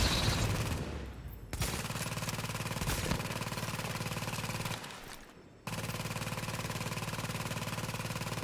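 Rapid automatic gunfire from The Division rattles out in long sustained bursts, loud and dense, broken by a couple of brief gaps before firing resumes at full strength.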